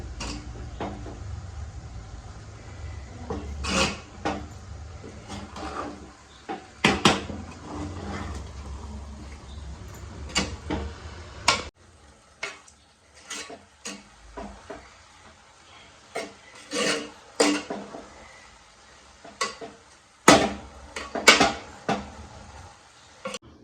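A leafy monsoon wild vegetable dish being mixed with coconut and oil, a spoon scraping and tapping against a pan in irregular strokes, close and fairly quiet, with a low background hum early on.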